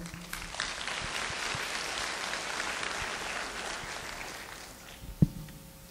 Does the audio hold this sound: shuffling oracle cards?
no